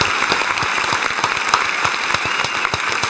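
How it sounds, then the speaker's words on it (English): A crowd gives a round of applause for state troopers, dense clapping that holds steady and fairly loud for a few seconds with no talk over it. "Can I give them a round of applause too?"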